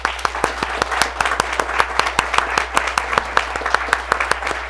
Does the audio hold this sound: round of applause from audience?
yes